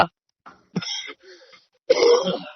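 A few separate coughs close to the mic, short bursts split by pauses, the last one the loudest and roughest, like a chesty cough.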